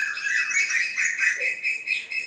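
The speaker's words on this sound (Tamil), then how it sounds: "எத்தனை பறவை சவுண்ட் கேக்குது பாருங்க." Birds chirp during rain in a brief burst of bright, overlapping tweets and whistles, lively and fairly near.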